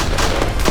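Rifle gunfire crackles in a dense, continuous burst during a battle scene from a Korean nuclear war scenario. The shots are loud and close, blurring into a heavy wall of noise.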